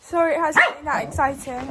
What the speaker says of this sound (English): that's my dog going crazy